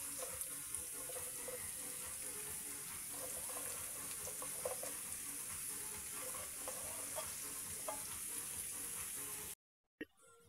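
Papaya soup boiling in a pot at home, a soft continuous bubbling and faint sizzle with occasional pops and clinks, quiet and close, with a brief cut to near silence at the end.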